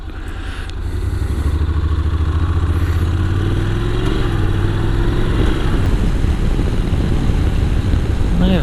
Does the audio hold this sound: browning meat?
no